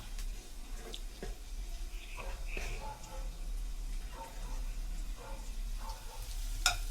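Garlic and meat sautéing in oil in a home kitchen pan, a soft steady sizzle with occasional stirring clinks and scrapes, fairly quiet and close.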